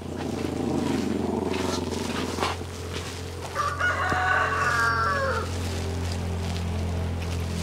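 Rooster crowing among clucking chickens at a poor rural Vietnamese home, a drawn-out crow standing out clearly over steady low engine-like drone and background clucks, no talk.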